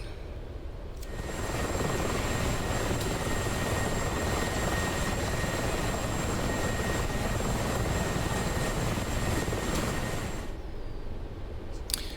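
Mi-24P Hind helicopter in the DCS flight simulator cruising over the Dubai region of the Persian Gulf, a loud, steady rotor and turbine roar that fades in, holds constant for about ten seconds, then cuts away.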